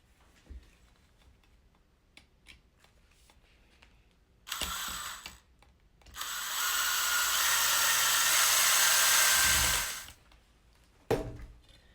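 Screws driven with a power driver during assembly of a two-layer chicken cage: a short whirring burst, then a longer steady loud buzz lasting several seconds, ending with a brief final click, amid quiet handling noises.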